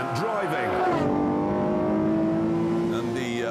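Lamborghini Murcielago SV from 2010, a 661-horsepower V12 at racing speed on a track, holding a loud steady high engine note with a brief shift near the start, heard close and under talk.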